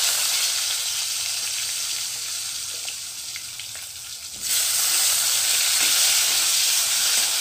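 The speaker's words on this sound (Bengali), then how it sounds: "এই একই তেলের মধ্যে আমি এখন বেগুনগুলোকে একটু ভেজে নেব হালকা করে" Eggplant pieces frying in the same hot oil just used for fish, giving a loud, steady close-up sizzle and hiss that swells noticeably louder partway through.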